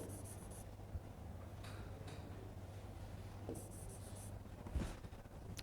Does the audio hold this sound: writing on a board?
yes